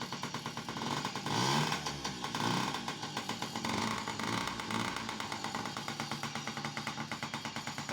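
A Yamaha PW50 dirt bike's small two-stroke engine idles just after starting, a rapid mechanical chatter with a few revving swells early on, then a steady fast putter, close and alone.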